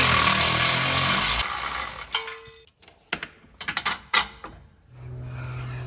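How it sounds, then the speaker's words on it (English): An 18mm socket on a power tool backs out the bolt securing a Jeep Wrangler upper control arm to the frame: a loud steady whir, then a series of close, sharp ratcheting clicks and clatters, ending in another whir. "using an 18mm socket, I'm going to go ahead and remove the bolt securing the upper control arm to the frame"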